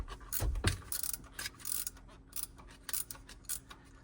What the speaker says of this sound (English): we'll use a ratcheting one and get that bolt off of there